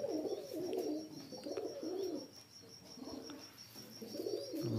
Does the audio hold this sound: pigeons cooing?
yes